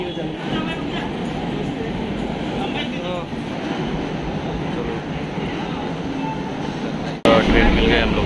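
A train at a station in Mumbai rumbles and rattles continuously, loud and near, with people talking over it and a sudden jolt near the end.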